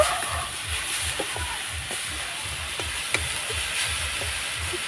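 Jaggery being stirred in a pan as it melts for making pitha, a soft steady sizzle with a regular rhythmic scraping of the spoon and a few light taps.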